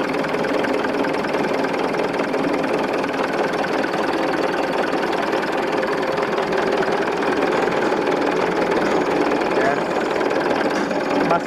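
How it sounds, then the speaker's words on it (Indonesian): An engine idles after starting, with a steady, even running note held throughout at moderate loudness. "Silakan teman-teman dengar irama dari mesinnya."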